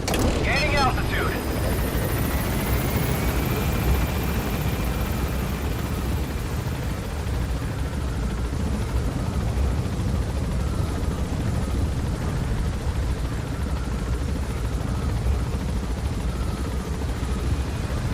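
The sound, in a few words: helicopter gaining altitude in Metal Gear video game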